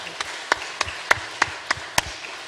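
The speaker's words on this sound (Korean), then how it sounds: "우리 하나님께 감사의 박수 드리겠습니다" A congregation claps during a church worship service, with about eight sharp, evenly spaced claps in a steady rhythm over a quiet room.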